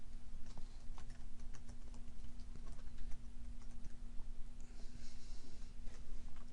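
Steady, light tapping of computer keys while words go into a spreadsheet cell, soft clicks scattered over a constant electrical hum.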